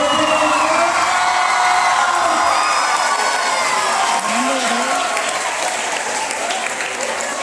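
Loud, sustained applause fills a school Teacher's Day gathering as staff stand, with cheering, whoops and children shouting mixed into the continuous crowd noise.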